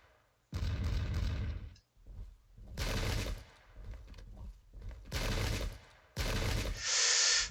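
Musket volleys in the Pike and Shot strategy game, Danes against Swedes: four loud crackling bursts of massed gunfire, each lasting roughly a second, separated by short quiet gaps, with no talking.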